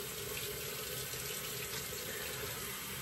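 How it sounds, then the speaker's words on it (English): Tap water runs in a steady, soft hiss while a razor is rinsed during a wet shave, a constant stream with no talking. "Just gonna rinse real quick."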